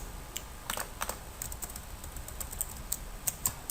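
Keyboard shortcut keys being pressed on a computer keyboard while working in the Sublime Text editor, a scattered series of light clicky key taps, close and fairly quiet, alone without talk.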